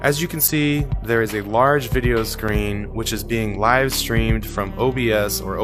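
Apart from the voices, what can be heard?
No everyday noises stand out.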